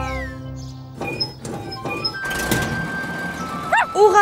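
A cartoon garage door rolls open after being oiled, with a few clunks and a sliding rumble, followed by bright synthetic tones near the end.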